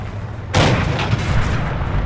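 A heavy boom from artillery in Forgotten Hope 2, a World War II battle game, bursts in abruptly and is followed by a rumbling tail with scattered gunshots, loud and close.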